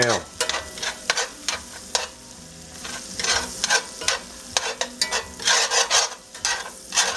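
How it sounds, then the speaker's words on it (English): Onions frying and being stirred in butter, oil and beef drippings in a cast iron pan, a steady close sizzle broken by repeated scraping, clacking strokes of a utensil across the pan bottom. "Get that onion to know that butter and that oil and all those drippings in there real good"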